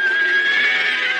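A cartoon horse neighing, one loud, close, sustained whinny with a bright tremolo that holds steady and stands alone without talk.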